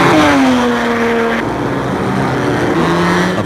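Racing cars at the Adelaide Grand Prix roar loudly past, engine notes climbing and then falling in quick successive sweeps as they rev hard and pass close by.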